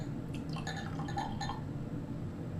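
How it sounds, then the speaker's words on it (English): Grape juice for homemade wine is poured into a glass bottle, giving a short run of trickling, gurgling splashes and light glassy clinks over a steady low background hum, with no talking. "I'm going to pour some of that into this bottle."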